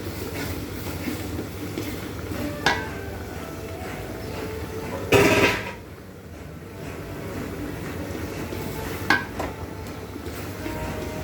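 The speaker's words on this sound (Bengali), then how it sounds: "মশলাটাকে ভালোভাবে কষিয়ে নেব।" Spice paste is stir-fried in a pan while raw mango pickle is being made, with a steady low sizzle and scraping broken by three sharper clanks of a utensil against the pan. No one speaks.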